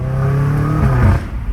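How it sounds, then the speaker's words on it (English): A 617-horsepower BMW M5 Competition on its stock exhaust lets out a deep, loud roar that climbs and then cuts off sharply, followed by a quieter lingering rumble. "I don't understand how this car roars like that with stock exhaust"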